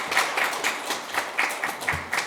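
Audience at a suicide-prevention policy seminar at the National Assembly clapping in a light, rhythmic way, a modest group of hands producing distinct repeated claps for a couple of seconds.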